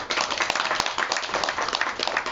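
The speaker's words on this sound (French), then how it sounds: "un applaudissement pour l'État" A crowd claps steadily during a protocol-agreement signing ceremony with Quality Beverages Limited in Mauritius, many hands blending into a dense, fairly loud burst of applause with no talk over it.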